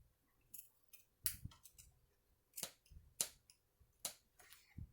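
Scissors snip through fabric while a makeup bag is being sewn, giving sharp, close, irregular clicks and cuts spread across the moment with quiet pauses between them and no talking.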